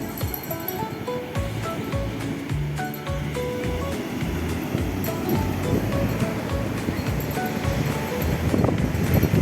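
Big ocean waves roll and crash onto the sandy beach at La Union, a continuous loud surf roar that swells toward the end, with faint tonal sounds in the background.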